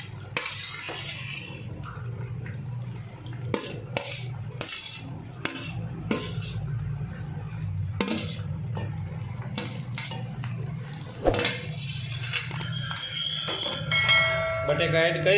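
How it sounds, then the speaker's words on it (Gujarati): Potatoes are stirred in hot oil in a pan for dabeli, an irregular run of metallic clinks and scrapes over a low frying hiss, with occasional talking. "બટેકા એડ કર્યા પછી એને સારી રીતે હલાવવાના છે."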